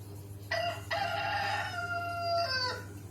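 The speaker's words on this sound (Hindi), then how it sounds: "ये मुर्गा बोलता है इसमें" A rooster crowing sample triggered from a Roland SPD-SX drum pad plays a clear, fairly close cock-a-doodle-doo of about two seconds over a low steady hum.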